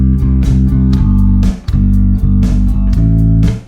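Bass guitar line closing each bar with three quick eighth notes, a looping pattern of deep, full notes with brief pauses between phrases, played close and loud with no speech.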